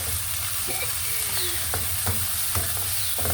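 Mixed vegetables sautéing in a pan, a continuous sizzle punctuated by several distinct scraping stirs of a utensil, close and clear with no voices.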